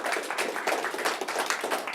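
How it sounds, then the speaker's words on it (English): An audience gives a round of applause at a campus political talk event, steady dense clapping at close range that holds evenly for a couple of seconds. "Let's give him a round of applause"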